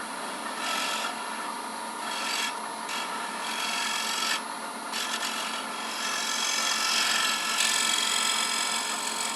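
Negative-rake scraper shaving a small wooden nub off a paten spinning on a lathe, a steady close rasping scrape with a constant high motor whine, swelling and easing in short strokes with no talk.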